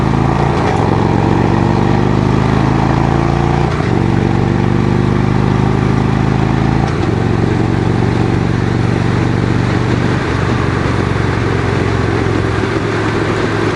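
A 2016 Victory Cross Country touring motorcycle engine rumbles steadily while riding, with loud continuous low drone and periodic shifts in pitch as it accelerates through gears, no talk.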